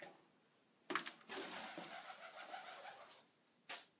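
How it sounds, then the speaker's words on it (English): Pigeons cooing inside an abandoned building at Fort Ord, a soft burst of cooing and wing flutter with faint echo, then a brief final call. "Hey, birds."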